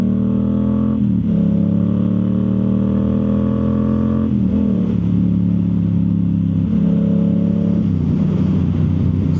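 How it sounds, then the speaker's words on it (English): A Yamaha YZF R7 motorcycle fitted with a Yoshimura full exhaust runs close by, a loud deep steady drone with a few shifts in pitch as the revs dip and rise, no talk. "So far the bike is running good."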